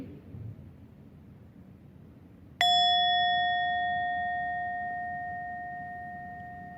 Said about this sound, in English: we gently close our eyes with the ring of this bell